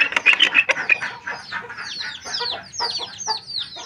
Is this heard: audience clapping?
no